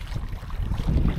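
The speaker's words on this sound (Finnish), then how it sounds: "Tuulee luoteesta, niin se kerkeää vähän jo nostottaa aaltoa tähän." Wind and choppy waves on a wilderness lake while paddling a canoe, a low blustery rumble of gusts against the microphone with sloshing water underneath, steady and close.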